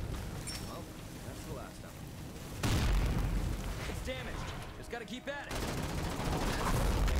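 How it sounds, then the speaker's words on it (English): Thermite grenades going off in the zombie survival game State of Decay 2, a loud burst of fiery blasts and crackling that swells midway and lingers, with a few distant shots mixed into a busy, noisy scene. "let's try these thermite grenades"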